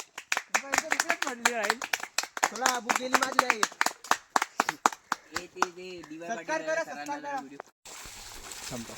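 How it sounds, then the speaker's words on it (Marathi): A crowd claps in scattered, uneven bursts at a felicitation ceremony, the sharp slaps running almost nonstop while people talk and call out over them throughout. "अरे टाळ्या वाजा ना अरे टाळ्या वाजा"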